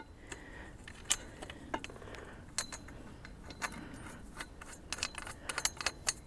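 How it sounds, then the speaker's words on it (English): Garden arch bolts on a Harrod Horticultural Roman arch being tightened with an Allen key outdoors, giving scattered light metallic clinks and ticks, faint and irregular over quiet background. "To tighten it up, we use the Allen key."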